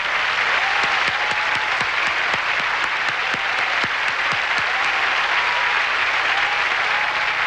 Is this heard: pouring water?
no